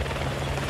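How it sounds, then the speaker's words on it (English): A helicopter in the video game Hitman 2 gives a continuous, dense rotor drone with a low steady throb, filling the short moment without a break. "the lady's showing up in the helicopter"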